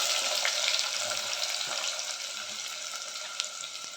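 Fennel seeds spluttering in hot oil in a pan while cooking squid thokku, a steady close hiss of frying with scattered small pops and crackles throughout, no talking.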